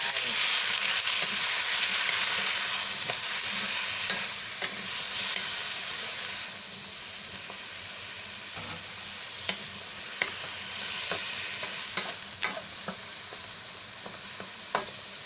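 Pumpkin stir-frying in roasted oil in a pan, with water sprinkled in: a steady loud sizzle with occasional sharp pops and crackles over fifteen seconds, no voices.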